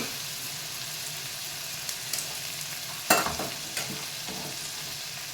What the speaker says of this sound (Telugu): ఉల్లిపాయ, పచ్చిమిరపకాయ కొంచెం మగ్గనిచ్చుకున్నాను